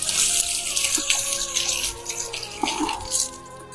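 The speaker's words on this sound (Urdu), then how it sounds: "آپ ایک ہاتھ سے پانی کو کھولیں اور دوسرے ہاتھ سے بند کر سکتے ہیں" Tap water runs into a basin during ablution (wudu), a steady splashing gush with small drips and clatters, close and fairly loud with no speech.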